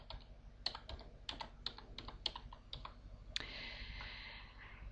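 Rapid typing on a computer keyboard entering a text command in a MUD game: a quick run of crisp individual key clicks, close and dry, ending in a slightly longer keystroke with a soft wash of noise.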